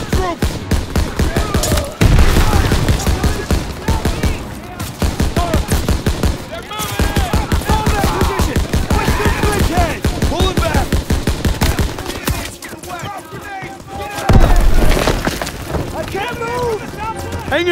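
Dense rapid gunfire in the World War II shooter Call of Duty, loud sustained machine-gun bursts with heavy impacts and explosions, soldiers shouting over the shooting.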